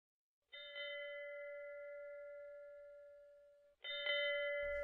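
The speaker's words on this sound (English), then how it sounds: "What's that? A bell?" A bell-like electronic chime rings with a sustained tone, fades slowly, then sounds again about three seconds later, clear and close in a quiet room.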